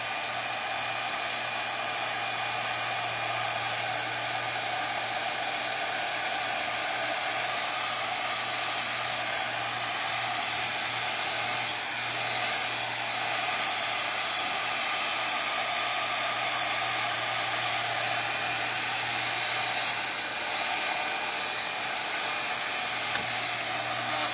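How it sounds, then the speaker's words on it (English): A fan and a heat tool blow a steady, even whir with a low hum for the whole stretch, drying crackle gel on a canvas, with no voices. "And I'm using both a fan and a heat tool"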